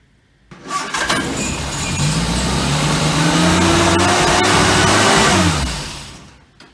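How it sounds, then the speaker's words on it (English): A 1971 MG Midget engine, restarted after about 21 years, cranks, catches and roars to life, then revs and settles into a loud, steady running rumble close by. "I got to start the car for the first time after 21 years or so"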